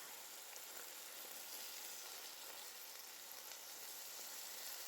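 Pieces of top sirloin beef steak searing and browning in a pan after flipping, giving a continuous soft hiss and crackling sizzle, even and close, with no talk.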